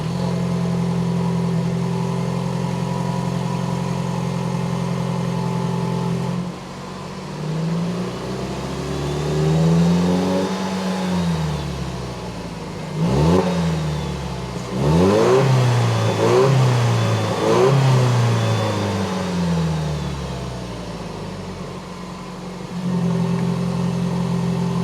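A 4th-gen Toyota Tacoma four-cylinder fitted with an SXTH trail pipe exhaust idles, then revs up through several rising gear pulls with loud engine sweeps, and settles back to a steady idle, no talking.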